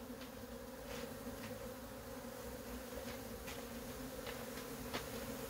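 A swarm of Korean native honeybees, found and being captured in the evening, hums in a steady, dense drone, with individual bees buzzing past now and then. No voices are heard.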